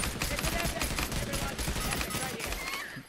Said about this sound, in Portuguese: Vou dar tiro, vou dar tiro